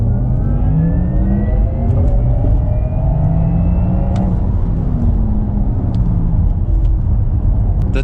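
A 2022 Porsche Taycan Turbo electric car accelerates hard, heard from inside as a steady loud rumble of road and motor noise with rising whirring tones climbing and resetting in stages.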